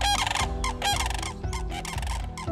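Sandhill cranes in Michigan give loud, rolling bugling calls in repeated bursts, close and clear, with several birds overlapping across the short stretch.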